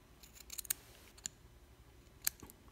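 Sharp scissors cut cotton wick during a build of the Drop RDA rebuildable atomizer, giving a few crisp, quiet snips spaced apart with soft handling noise between them.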